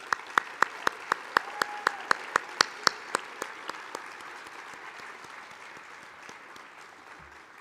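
Claps ring out at a physician assistant white coat ceremony, starting as loud, sharp, evenly spaced rhythmic claps in unison, then tapering into softer, scattered clapping that fades toward the end.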